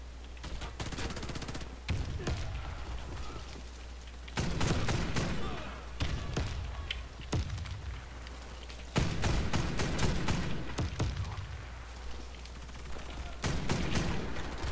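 Rapid bursts of in-game gunfire in the shooter Warface, loud and close, repeating in clusters across the whole stretch with brief gaps between volleys, while players shout and talk over it.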